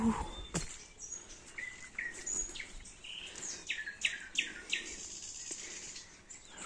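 A nightingale pours out a varied song of whistles, trills and quick chirped notes in an empty, decaying village, fairly close and steady over several seconds with faint background rustle.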